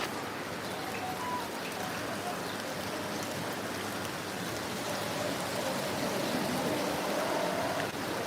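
Steady, dense rainfall hisses evenly throughout, a heavy downpour on a partly flooded road with water rushing beneath and no clear voices.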